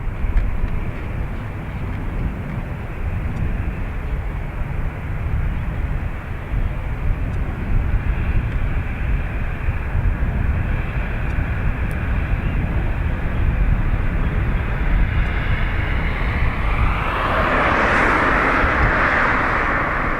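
An Aer Lingus airliner takes off from runway 28 at Dublin Airport, bound for Gran Canaria. Its engines roar in a steady, loud, broad rumble for the whole stretch and swell brighter near the end as the jet passes close.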